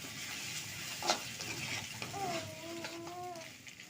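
Egg frying together with chowmein in a pan, giving a low, steady sizzle with a few stirring scrapes and a brief clunk, while a faint tonal hum rises midway.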